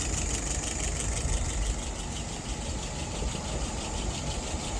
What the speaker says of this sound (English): Currently idling at about 675.